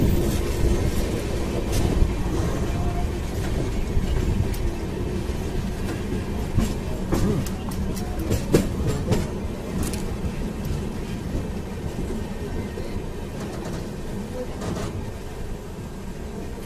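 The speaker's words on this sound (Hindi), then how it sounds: "ढलान की वजह से ट्रेन अपने आप ही स्पीड पकड़ ले रही है" The Saket Express (22184) is heard rolling downhill through the Kasara Ghat, a steady close rumble of wheels and carriages with faint clicks, continuous and unbroken throughout.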